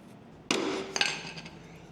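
Metal hammer taps a flathead screwdriver to seat retaining clips onto a lawn sweep, giving two sharp metallic strikes about half a second apart with ringing decay, close and alone.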